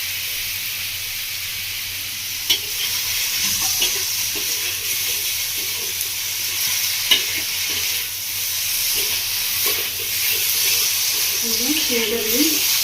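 Pineapple chutney with sugar being stirred in a pan over a medium gas flame, a constant sizzling hiss with occasional spatula knocks, and someone talking quietly underneath.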